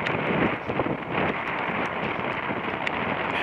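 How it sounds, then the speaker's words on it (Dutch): Storm wind gusting across open countryside in the Ardennes, a steady broad roar buffeting the microphone without pause for a few seconds, with no voices. "Storm waait."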